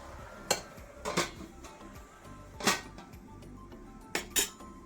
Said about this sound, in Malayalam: ഞാൻ അടുപ്പത്തേക്ക് പാത്രം വെച്ചിട്ടുണ്ട്.